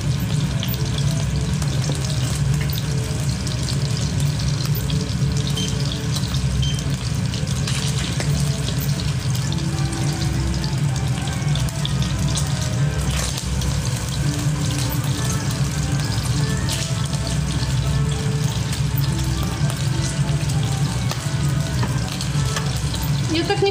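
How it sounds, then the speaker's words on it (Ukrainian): Cutlets frying in a pan: a dense, constant sizzle with watery crackle close by, steady for the whole stretch, with low background hum and occasional faint voices. "Готую котлети."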